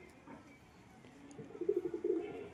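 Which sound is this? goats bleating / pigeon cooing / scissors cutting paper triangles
pigeon cooing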